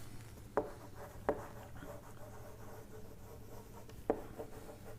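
Chalk or marker writing on a board during an engineering lecture on strain energy, heard as three sharp, separate taps and strokes over a steady low room hum, fairly faint and with no talking.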